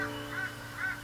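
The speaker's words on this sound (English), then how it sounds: "You have to excuse that rooster in the background. He sounds like he's broken, but he's just little and he hasn't got his full crow yet." A young rooster on a rural farm gives faint, distant, immature crows, three short strained calls spaced evenly under a steady background hum.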